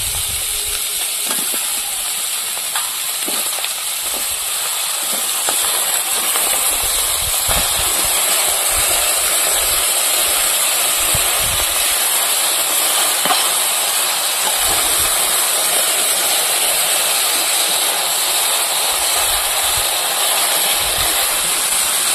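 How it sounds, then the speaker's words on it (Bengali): Sea crabs fry in a pan with a little salt and turmeric, giving a loud, continuous close-up sizzle and hiss that holds steady throughout, with no voices. "এবার কাঁকড়াগুলো দিয়ে দেবো, হালকা করে লবণ হলুদ দিয়ে ভেজে দেবো"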